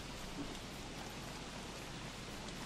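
Steady rain falls in the survival video game Don't Starve: Reign of Giants, a dense, even wash of hiss that runs unbroken and alone throughout, fairly quiet, with no voices and no thunder.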